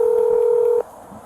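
A phone keypad tone sounds steadily for under a second on a speakerphone call, then cuts off abruptly, leaving faint room noise.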